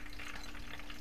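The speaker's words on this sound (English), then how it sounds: "And I'm frying these at 375." A brief stretch of steady sizzling and crackling from spring rolls frying in oil at 375 degrees, close up and constant.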